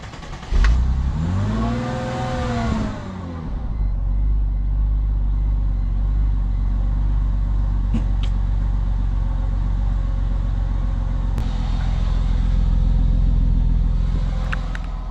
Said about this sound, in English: let's get this car started up